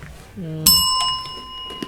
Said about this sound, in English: That's a bell, too!